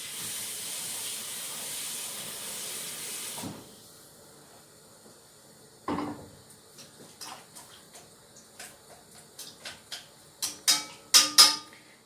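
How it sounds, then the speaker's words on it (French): Water poured into a hot pan of chicken thighs hisses and steams loudly at first, then dies down to faint bubbling and a run of sharp ticking pops and crackles. "Et maintenant, je vais ajouter de l'eau dedans,"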